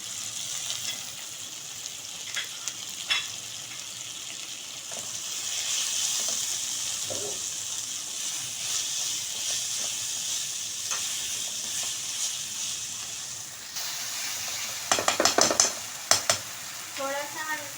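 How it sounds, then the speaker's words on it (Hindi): Spices such as turmeric and coriander powder sizzle steadily in a pan for aloo keema while a spoon scrapes and stirs, with louder clattering bursts near the end and no voices. "हम मसालों को फिर सही तरीके से भूनेंगे"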